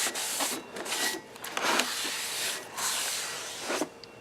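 A rag wipes and scrubs a Honda Odyssey brake rotor during a brake job, repeated rough rubbing strokes in uneven bursts, close and fairly loud with brief pauses between passes.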